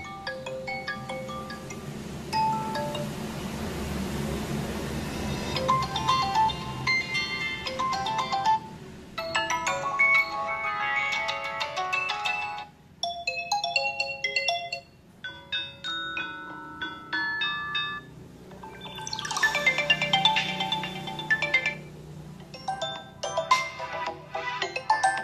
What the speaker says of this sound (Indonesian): Kita coba mainkan ringtone.